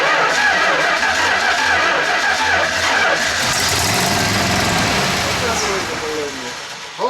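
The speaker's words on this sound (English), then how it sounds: "See if it'll crank." The engine of a 1970 Plymouth Road Runner, revived after 25 years, cranks and churns loudly and continuously for several seconds before fading, with a brief voice at the end.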